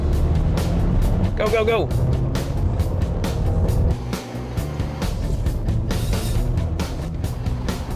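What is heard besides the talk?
Subaru Legacy car launching and racing on course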